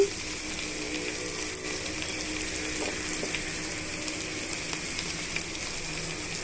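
Turmeric and coriander powder sizzle steadily in hot oil while being fried for an ivy gourd stir-fry, a dense continuous crackle with occasional stirring clinks, close and even throughout.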